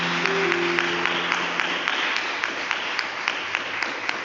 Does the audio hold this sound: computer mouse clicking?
no